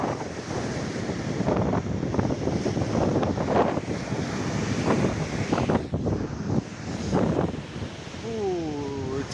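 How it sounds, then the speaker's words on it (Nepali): Strong cold wind gusts at the seaside, buffeting the microphone in loud, steady rumbling bursts with surf washing beneath and a few bird calls near the end. "चिसो हावाले यति हान्ने नि"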